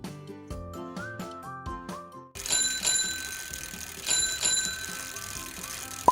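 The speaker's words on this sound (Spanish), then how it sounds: "Es la bicicleta." Bicycle bell in a city-sounds game: a bright metallic ringing with a few repeated rings over a busy street background, following a short musical jingle.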